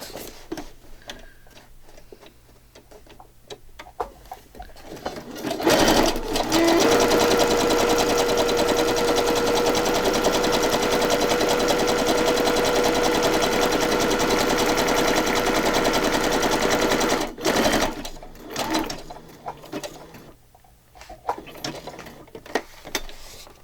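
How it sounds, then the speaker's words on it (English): A sewing machine stitches around the edge of a paper file folder journal. It runs as a loud, steady whirring hum for about eleven seconds, with quieter mechanical ticking and clicking before and after, close up and without talk. "We're going to start here and just go around because the bottom doesn't need to be stitched."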